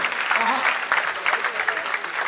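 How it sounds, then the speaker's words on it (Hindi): Audience applause fills a hall at a comedy and poetry recital event at IIT Delhi, a dense, steady clatter of many hands that swells and pulses throughout. "एक बार जोरदार तालियां बजाकर मुझे मन दी"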